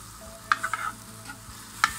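Chicken frying in a pan with green chili, soy and chili sauces, a low continuous sizzle with a couple of sharp stirring clicks.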